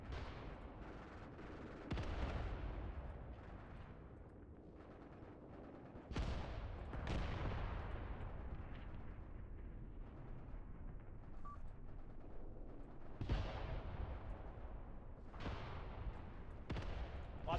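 Artillery fire and an infantry assault in the war game Graviteam Tactics: heavy booming blasts at irregular intervals over a continuous low rumble of distant gunfire and battle noise, loud and dense throughout.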